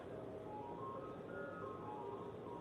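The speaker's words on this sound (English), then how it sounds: "It is 8:15 at night. Got a freaking ice cream truck." An ice cream truck jingle playing outside at night, a faint, distant melody drifting over a steady background hum.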